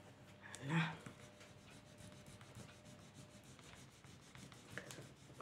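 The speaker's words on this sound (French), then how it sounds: "On frotte bien." Paper napkin rubbed down for decoupage scrapbooking, soft continuous close-up rubbing strokes, faint, with a brief louder voice near the start.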